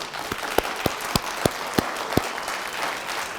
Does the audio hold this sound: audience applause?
yes